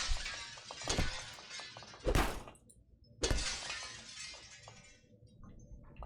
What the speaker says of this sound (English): Who doesn't like punching your way out of a glass tube?